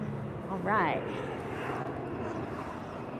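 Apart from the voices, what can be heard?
airplane flying overhead at outdoor car show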